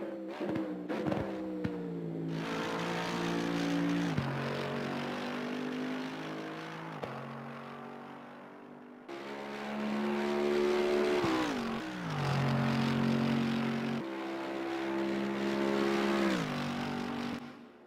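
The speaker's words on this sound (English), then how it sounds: "Gotta love the sound of that AMG." Mercedes-AMG GT3 EVO race car engine in Assetto Corsa Competizione at Watkins Glen or Monza, a loud continuous roar climbing through the revs with sharp downshifts and surging pulls, heard alone without talk.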